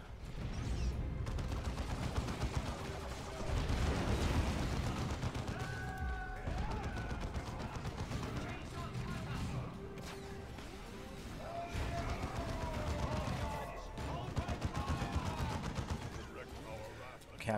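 Dense, continuous gunfire and explosions pound against a grav tank in the Dawn of War II video game, with rapid bursts layered over heavy impacts and voices speaking under the din throughout.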